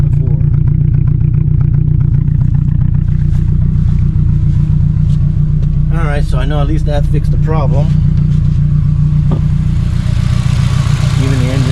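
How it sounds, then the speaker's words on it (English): A 2006 Honda S2000 AP2 engine idles steadily after a fuel injector replacement, giving a constant low rumble close by while someone talks over it. "Even the engine's more steady."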